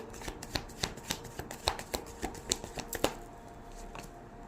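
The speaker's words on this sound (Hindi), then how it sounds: "तो मैं वापस से कार्ड्स को अरेंज कर देती हूँ" Tarot cards being shuffled and rearranged by hand, a quick series of crisp riffling snaps and slaps at close range, quiet and uneven, then settling into softer handling.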